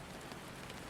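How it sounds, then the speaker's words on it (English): Relentless, pouring rain falls in a steady, dense hiss of drops striking surfaces, constant and unbroken with no pause or other sound. "6 months of ceaseless downpour"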